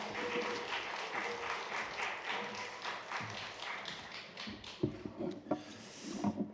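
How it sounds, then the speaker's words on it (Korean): Applause from a church seminar audience fills the whole clip, dense and steady, with a few sharper nearby claps toward the end. "우리 박수로 모셔야겠습니다"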